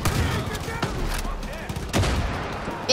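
Grenade blasts and gunfire in the video game Far Cry 5 arrive as sharp, loud bursts over a dense battle din, with a second heavy impact near the end and a player talking intermittently.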